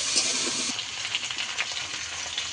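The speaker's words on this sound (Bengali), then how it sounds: "আদা দিয়ে কিছুক্ষণ আমি কষিয়ে নিয়েছি" Ginger and spices sizzle steadily in a hot pan with taro and potato for a Bengali fish curry, a close, continuous frying hiss with no talking.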